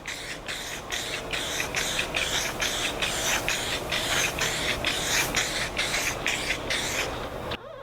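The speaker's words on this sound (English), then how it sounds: "What you do is you spray a light mist coat all the way down the board." Silicone sprayed as a light mist down a shuffleboard table in a steady series of close, even hissing bursts, one after another with a regular rhythm.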